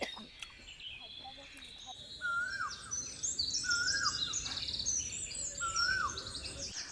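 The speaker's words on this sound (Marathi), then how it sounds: "आजूबाजूला चिमण्यांचा चिवचिवाट आणि" Sparrows chirp in a village in Uttar Pradesh, scattered high, quick calls over a steady outdoor background, with repeated short tweets in the second half.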